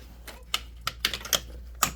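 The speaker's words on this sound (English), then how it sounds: "they will be torqued up once you could hear a click around the ratchet themselves." Torque ratchet tightening spark plugs on a Kawasaki ZXR 400 motorcycle, with several sharp, quiet clicks spaced irregularly over a faint background.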